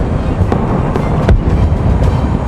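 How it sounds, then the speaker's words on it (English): Rifles and Lewis machine guns fire from First World War trenches in a dense, continuous crackle of overlapping shots, with a few sharper reports standing out, loud and unbroken throughout. "Rifles and Lewis guns erupt from the trenches."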